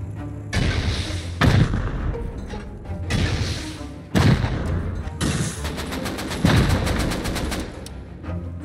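Heavy weapon fire in console Rust at a base gate, several loud booming blasts spaced about a second apart followed by a rapid burst of automatic shots, all close and forceful.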